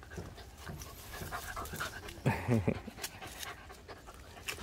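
A dog pants close by in a rural village yard, with quick, breathy rasps under steady background noise and a short louder burst midway.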